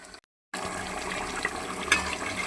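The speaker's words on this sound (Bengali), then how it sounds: "এই যে অল্প করে পানি দিয়ে দিচ্ছি," Water is poured into chicken biryani masala as it is stirred in a pot, a splashing liquid pour that starts after a brief silence and runs on steadily, close and moderately loud.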